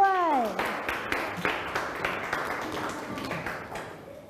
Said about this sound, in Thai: ปรบมือดังๆให้อันด้วย